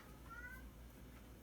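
A cat gives a faint, short meow in a quiet indoor room under a steady background hiss.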